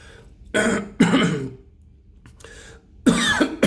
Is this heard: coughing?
yes